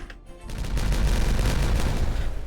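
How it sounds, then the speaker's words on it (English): Double dynamite detonates in a video game, a rumbling explosive burst that swells after a brief quiet start and holds loud and dense, crackling with layered booms to the end. "Because these are all the double dynamites, I should be able to just go through and detonate now"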